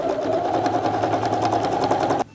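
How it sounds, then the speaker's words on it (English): A sewing machine runs steadily, stitching a very small seam down the edge of fabric flower petals for a hat, with a fast even rhythm close by that cuts off abruptly at the end. "with the sewing machine we're going to start at the top under the leaves"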